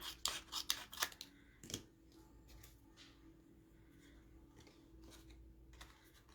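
Scissors snip through material while making a craft, with a quick burst of several close, crisp cuts followed by quieter scattered rustles and snips against a low background hum.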